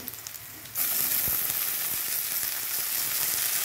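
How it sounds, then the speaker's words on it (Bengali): Chopped onions and Malabar spinach stems hit hot oil in a pan, a sudden loud sizzle that jumps in after a quiet moment and then keeps up a steady, close crackling hiss with a few light clicks. "পেঁয়াজের সঙ্গে পুঁই মুচড়িগুলোও ভাজা হবে"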